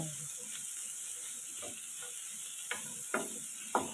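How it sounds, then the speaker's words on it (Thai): A spatula stirs and scrapes gourd and egg in a frying pan over a faint steady sizzle, with a few sharper scraping strokes near the end. "ผัดไปเรื่อยๆนะคะ จนแตงเขาใสๆนะคะ"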